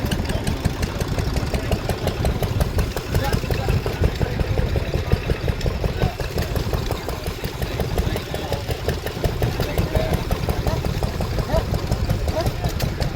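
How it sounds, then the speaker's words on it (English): Vintage stationary engines running at an outdoor classic tractor show, a steady rapid chugging and knocking beat close by, continuous throughout with faint voices in the background. "Stationary engines"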